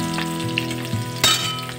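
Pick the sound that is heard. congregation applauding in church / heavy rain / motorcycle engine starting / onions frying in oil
onions frying in oil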